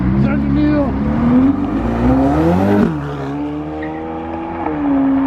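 A Ferrari 488 Pista accelerates hard leaving a car show, its engine note climbing loudly through the gears with a brief dip at a shift before climbing again; voices talk over it.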